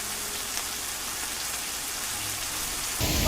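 Steady monsoon rain pouring in the hills near Sakleshpura on the way to Abbi Falls, a dense even hiss throughout with a louder rumbling gust near the end, no speech.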